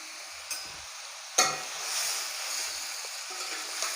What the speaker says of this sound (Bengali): এখন আমি এর মধ্যে যে বেগুনগুলো ছিল ওইগুলো দিয়ে দিব